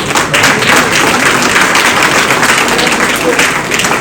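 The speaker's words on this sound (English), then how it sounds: "With a resounding round of applause." Audience applause at a book launch as a guest is welcomed onto the dais, loud continuous clapping filling the room with some thuds and crowd murmur mixed in.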